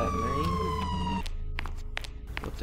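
Siren Cop's siren in the Roblox video game sounds as a loud, wailing electronic tone that cuts off about halfway, leaving scattered footsteps and clicks.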